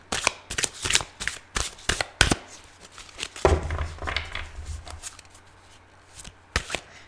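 Tarot cards shuffled by hand in repeated quick bursts of riffling and tapping, close and crisp, with brief pauses between rounds.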